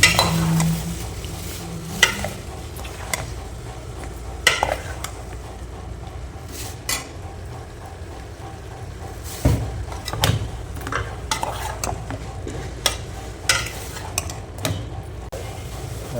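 Potato chicken curry (kulambu) being stirred as it fries in a pan: repeated scraping and clinking of a spoon against metal over a soft steady sizzle, with no talking.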